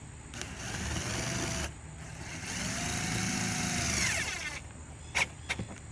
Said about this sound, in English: Line that screw right back up, and then go ahead and screw that in.